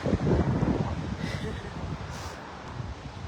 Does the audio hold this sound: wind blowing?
yes